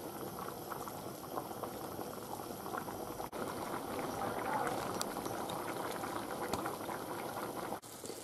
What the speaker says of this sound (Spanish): Ahora que está hirviendo, tiene que estar 20 minutos.